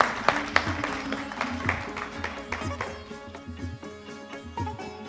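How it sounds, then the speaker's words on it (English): An audience at a community gathering claps in steady, moderate applause that tapers off, with a faint voice underneath. "big round of applause for TC"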